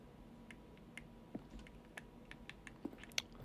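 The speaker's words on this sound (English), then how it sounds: "Each sound is a mix of keyboard stroke and a synthesized tone." Button presses in The Stanley Parable: Ultra Deluxe, each a keyboard stroke blended with a synthesized tone, sound as scattered quiet clicks and taps at irregular intervals over a faint background hum.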